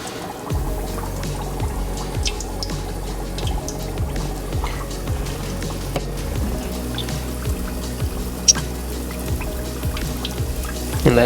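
Pieces of fish sizzle and bubble in a pot of hot oil, a steady crackling hiss with frequent small pops and spatters that continues without pause, with no one speaking.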